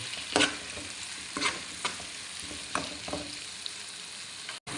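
Tomatoes being sautéed are mashed with a fork in a sizzling pan, several sharp metallic scrapes and presses cutting through a constant frying hiss, close by with no talking.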